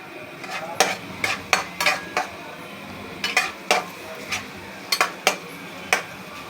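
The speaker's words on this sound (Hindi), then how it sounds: "अब हम इसमें अपनी एक दरमियाने साइज़ की हमने प्याज कटिंग करके रखी थी बारीक, वो डाल के हम इसको थोड़ा सा लाइट ब्राउन करेंगे" Finely chopped medium-sized onion frying toward light brown in a pan for dhaba-style chana dal fry, with a steady low sizzle under repeated sharp metallic clinks of a spoon scraping and stirring against the pan.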